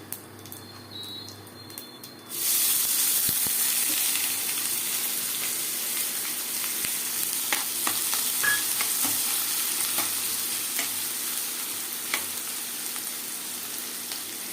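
Chopped onion is tipped into hot oil with cumin and asafoetida for bhindi masala, bursting into a loud, close, continuous sizzle with scattered crackles and spoon-stirring scrapes after a quieter opening.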